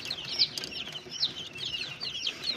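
Many ten-day-old Australorp chicks in a brooder, a dense chorus of high, rapid cheeping peeps overlapping continuously at low to moderate volume, with no talk.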